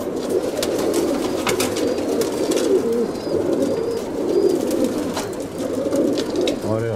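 Pigeons coo continuously in the foreground at a pigeon loft in Aigaleo, Athens, a steady soft cooing chorus with occasional wing flutters and faint background murmur.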